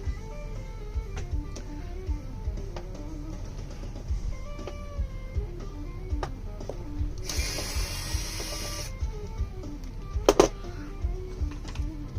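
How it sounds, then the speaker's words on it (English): An electric screwdriver backs screws out of a Technics SL-D205 turntable, whirring in short bursts with ratcheting clicks and a louder, buzzier run near the end, close up with no voices. "I like to get this electric screwdriver"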